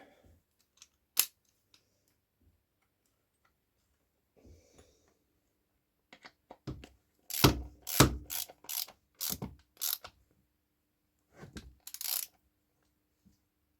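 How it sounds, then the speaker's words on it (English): A ratchet tightening a nut on a 1959 NSU Quickly moped, heard as a close run of quick clicking bursts in the middle, with scattered small metallic taps before and after in a quiet workshop. "I'll get my ratchet out. And we'll give that a little tighten up just."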